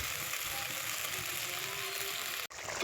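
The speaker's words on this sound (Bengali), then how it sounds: "দেখো মশলাটা ফুটে এসছে" A pan of poppy seed paste masala for a pomfret fish dish simmers with a steady, soft bubbling sizzle, and a brief knock cuts in near the end.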